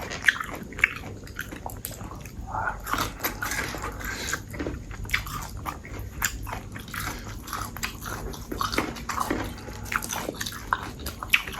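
Close, crisp crunching and chewing of a spicy Thai salad of moo yor pork sausage and fresh shrimp, irregular bites continuing throughout with no talking.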